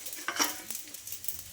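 Leftover rice being stir-fried with spices on a hot tava, with a short soft sizzle and scraping stir strokes from a spatula, close and without speech.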